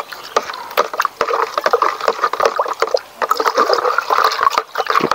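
Liquid organic fertilizer mixed with rabbit urine being stirred by hand, a steady run of loud, close sloshing and splashing strokes with no talk.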